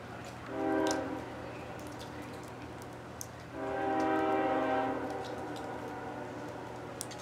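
A loaded CSX rock freight train rumbles steadily nearby at Point of Rocks, and two long, loud horn blasts sound over the rolling clatter of the cars.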